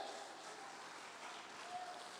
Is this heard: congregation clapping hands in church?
yes